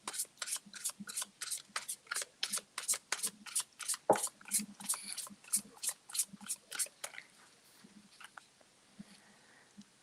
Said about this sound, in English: Shuffle this up a little bit.